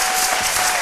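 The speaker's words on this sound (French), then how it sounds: "Je vous demande d'applaudir à Janilia" A studio audience on a French midday talk show bursts into loud, dense applause to welcome a guest joining the set, a brief close wash of clapping hands.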